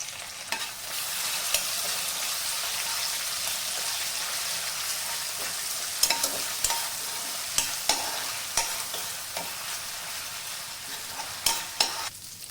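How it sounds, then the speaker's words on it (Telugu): Steady oil sizzle of ginger-garlic paste and curry leaves frying in a pan, with intermittent scraping clicks of a spoon stirring, growing more frequent toward the end. "హాఫ్ టేబుల్ స్పూన్ అల్లం వెల్లుల్లి పేస్ట్ ఇంకా లైట్గా కరివేపాకు కూడా వేసుకుని మంచిగా ఫ్రై చేసుకుందాం"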